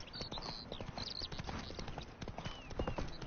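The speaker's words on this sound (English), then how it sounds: "Spooking my horse" Roach the horse's hooves clip-clop steadily in a video game, with a brief whinny as the horse spooks; the hoofbeats are close and continuous over game ambience.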